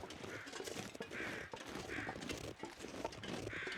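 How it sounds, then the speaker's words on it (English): Crows in The Long Dark caw a few times at a regular pace, faint against a hiss of ambient wind and noise. "Okay, we've got some crows up here."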